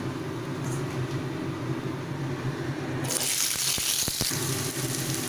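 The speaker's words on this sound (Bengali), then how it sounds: "এবারে সব সবজিগুলোকে আমি এক এক করে দিয়ে দিচ্ছি" Mixed vegetables dropped into hot oil with black cumin, a low steady bubbling that bursts into a loud, close sizzle, with a few clunks as pieces go in.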